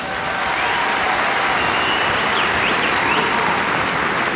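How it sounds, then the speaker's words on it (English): Huge arena crowd applauding after Indian dance recitals, a dense, steady roar of clapping with faint whistles and cheers mixed in, loud and continuous throughout. "Give them another big round of applause,"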